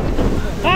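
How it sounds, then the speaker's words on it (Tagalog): Strong wind gusts roaring at an outdoor wharf-side container market at night, a brief steady broadband rush with a higher whistling tone rising near the end. "Lakas ng hangin"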